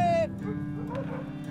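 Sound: Alaskan Husky dogs whimpering

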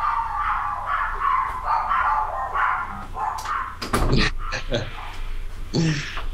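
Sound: dogs barking

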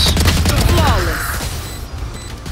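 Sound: gunfire in the Valorant video game

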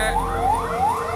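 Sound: ambulance siren

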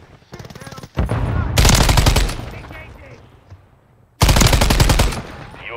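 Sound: gunfire in Modern Warfare 3 multiplayer video game

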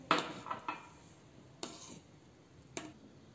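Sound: stirring reduced milk with almond pieces in a pan

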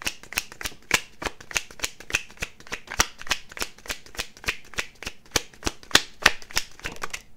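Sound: shuffling a deck of cards

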